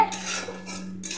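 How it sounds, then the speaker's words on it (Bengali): A utensil stirs a fish roe and coconut dish in a cooking pot, giving a brief burst of close metallic scraping and clinks against the pot, with no one talking. "এখন নেড়ে দিলাম"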